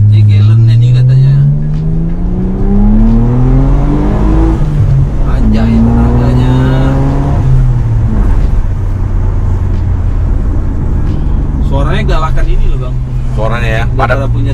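A Mitsubishi Galant VR4, a JDM car, revs its engine with rising and falling pitch sweeps, loud and close, while people talk over it throughout.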